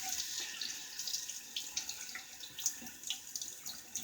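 Tap water runs from a faucet into a sink for a quick rinse of a shaving brush or razor, a steady splashing stream with small spatters, close and alone without talk.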